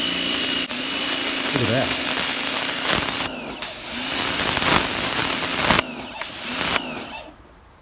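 An AR Blue Clean AR118 electric pressure washer, 1,500 PSI and 1.5 GPM, blasts concrete in a loud steady hiss with brief cut-outs as the trigger is released, while someone speaks briefly.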